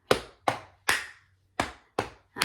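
Stomp-stomp-clap pattern of the We Will Rock You beat from a group, sharp close impacts spaced about half a second apart, with a longer gap before the next round, no talking.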